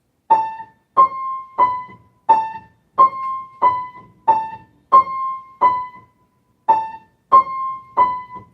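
A single piano note struck repeatedly in an even rhythm, a dozen clear, separate strikes with short pauses, one longer gap near the end.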